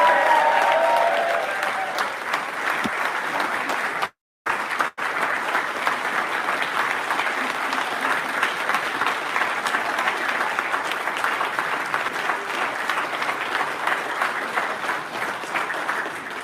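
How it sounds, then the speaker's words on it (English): An audience at a live political rally in Manchester applauds the arrival of Ben Habib, leader of Advance UK, with sustained loud clapping that runs on evenly, broken only by a brief dropout partway through. "A big round of applause to the leader of Advance UK"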